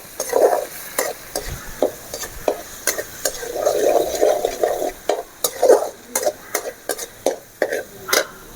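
Ground mustard and fenugreek powder are stirred into a ginger pickle, giving a close series of regular scraping, squelching strokes with brief pauses between them, and no talking.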